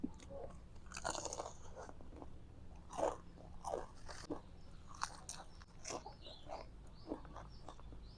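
Close, quiet crunching and chewing on a giant crispy Thai fried spring roll, with repeated crackly bites and soft mastication at an uneven rhythm.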